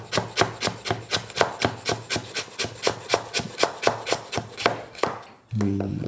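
Carrots are chopped with a knife on a board in a fast, steady run of about twenty close, crisp strokes, ending with a brief low hum.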